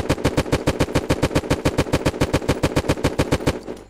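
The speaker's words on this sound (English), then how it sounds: "If I shoot all of these plates away, they might not notice that I'm here." Rapid automatic gunfire in the survival game Unturned as base plates are shot away, a steady burst of about thirty evenly spaced loud shots over three and a half seconds, close and clear, ending abruptly.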